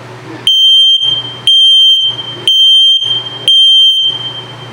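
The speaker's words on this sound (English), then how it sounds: "Now the next one is the low battery alarm." An LP/carbon monoxide detector in a 2022 Sunset Trail 272BH RV sounds its low-battery alarm: four loud, shrill electronic beeps in a regular rhythm, each about half a second long and separated by short silences.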